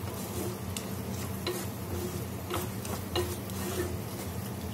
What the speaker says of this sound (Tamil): நல்லா வதக்கிடலாம்.